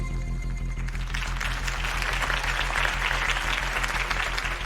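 Loud, sustained applause from a large crowd in Batman: The Telltale Series, dense clapping that swells slightly and continues steadily throughout.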